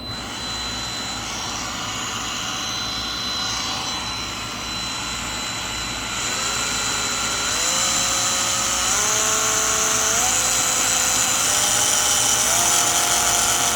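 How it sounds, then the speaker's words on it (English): An SPTA cordless mini polisher runs close by with a steady whining motor hum that steps up in pitch several times as its speed settings change. "It's not crazy loud. I mean, compared to a regular polisher anyways, it's a lot quieter."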